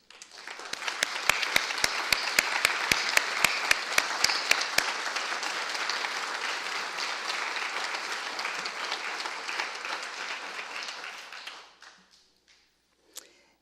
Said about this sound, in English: Would all the nominees please stand for or the retirees please stand for a round of applause.